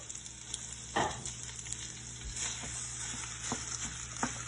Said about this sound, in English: I'm gonna add 1 pound of ground beef and 1 pound of Italian sausage to my skillet. And we're gonna brown that up.